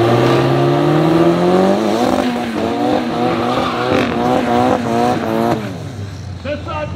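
Drag racing cars, Kabouter against a BMW, launch at a South African cash days event, loud engines revving up through rising gear changes before backing off, with a commentator talking over them.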